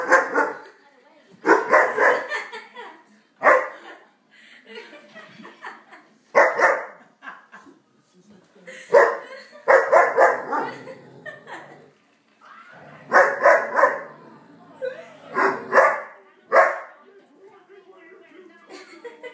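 Dog barking in repeated short bursts close by, loud and insistent, spaced across the whole stretch, with brief quieter gaps between volleys.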